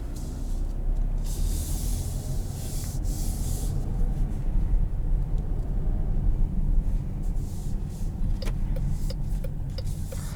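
A 2020 Chrysler Pacifica minivan cruising on the road, with a steady low engine and road rumble, broadband tire and wind noise throughout, and a few faint clicks near the end.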